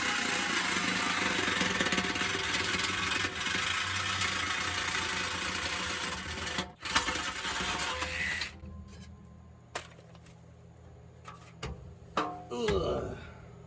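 A saw with a dull blade cuts through the muffler on a 2002 GMC Sierra pickup, a loud continuous grinding buzz for about eight seconds that stops abruptly, followed by quieter clanks and handling noises.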